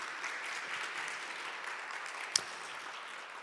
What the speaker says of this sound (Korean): 다시 박수 부탁드리겠습니다.